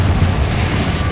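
Confringo, an explosive spell in Hogwarts Legacy, erupts as a deep, sustained blast that rumbles loud and steady for about a second with no talk over it.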